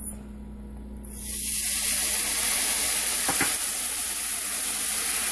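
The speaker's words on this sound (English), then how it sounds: "I'm going to try to deglaze the pan a little bit with some of the juice from this" A pan deglazed with juice while cooking chicken stew: after a second of low hum, a loud hissing sizzle bursts up and holds steady, with a couple of brief scraping clicks partway through, no talking.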